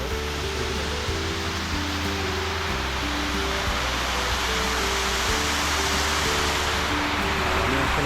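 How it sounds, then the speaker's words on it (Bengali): Waterfall rushing into Champa Lake at a Sreemangal tea garden on a rainy day, a steady, dense roar of falling water that stays close and loud throughout with no voices. "এই যে ঝর্ণাটা"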